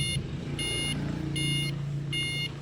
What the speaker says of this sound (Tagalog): nag-buzzer na naman siya